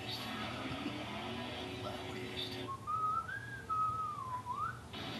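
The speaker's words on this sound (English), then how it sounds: "See, so Russ whistling." A person whistles a wavering, sliding tune over roughly two and a half seconds, clear and fairly close, following a stretch of music-like background without talk.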